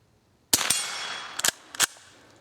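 Three sharp .22 rifle shots using Sellier & Bellot CLUB ammunition crack outdoors at a target range, the first alone and the next two in quick succession about a second later, each with a short ringing tail.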